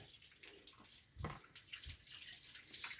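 Water runs from an Electrolux electric water heater's outlet in a home, a soft steady splashing flow with small surges, faint and close, no talking.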